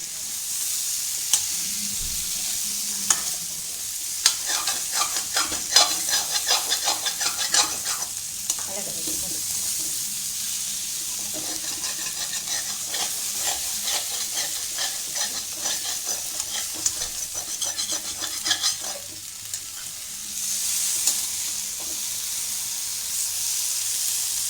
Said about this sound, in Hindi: इसको गैस तेज करके तेज आंच से देर तक भूनेंगे